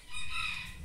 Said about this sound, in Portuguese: Olha, gente, aqui tá a galinha.